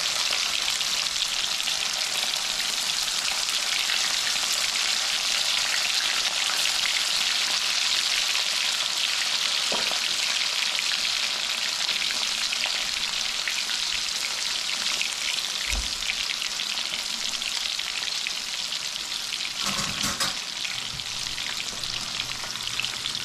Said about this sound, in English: All right, here we go, frying this fish here.